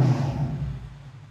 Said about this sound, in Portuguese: vamos dar uma ligadinha nele aqui, só pra escutar o V8